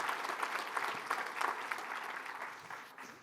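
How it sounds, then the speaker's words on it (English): Brief, fairly faint applause from an audience at a Georgia Chamber rural awards ceremony, a soft continuous patter of many hands heard from a distance. "a round of applause for our friends at the Metter, Candler County"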